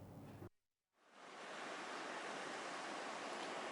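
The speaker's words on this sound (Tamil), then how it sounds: "சென்னை பட்டினப்பாக்கத்தில் கடல் சீற்றத்துடன் காணப்படுகிறது" Rough sea surf at Pattinapakkam, Chennai during heavy rain and a storm, a dense roaring wash of breaking waves that cuts out briefly, then swells back and holds steady and loud with no voices.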